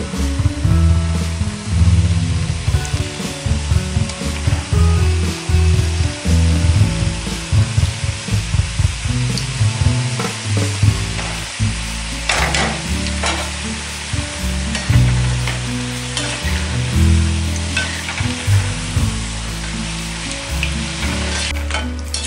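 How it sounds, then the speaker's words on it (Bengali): Nimki (namakpare) dough strips frying in hot oil, a steady bubbling sizzle with intermittent scraping and stirring clatter of a utensil in the pan, close and alone. "দেখুন আমাদের দ্বিতীয় ধাপের নিমকিগুলো ভাজা হয়ে গিয়েছে"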